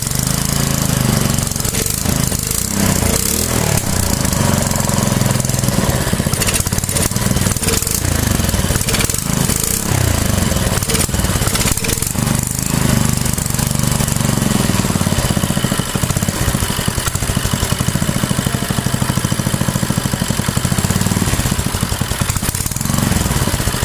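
A hard-starting diesel boat engine running under test, loud and continuous with a rough, rattling knock and unsteady revving, close up and without talk.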